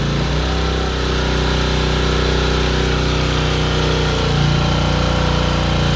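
A small Champion generator engine runs under load with a close, steady, buzzing drone. The pitch sags slightly partway through, as if the engine is bogging down.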